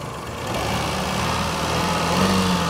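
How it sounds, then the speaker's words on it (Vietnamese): A 2008 Daewoo Matiz's small 0.8-litre engine hums, then revs up and grows louder toward the end, its pitch rising slightly. "Để tăng ga lên cho nè"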